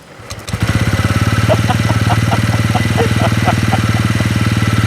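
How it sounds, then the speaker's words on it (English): A TVS Ronin motorcycle engine cranks and catches quickly, then settles into a steady, rhythmic single-cylinder idle heard close up, with faint voices underneath. "You know what I found out on this bike? It starts just like this."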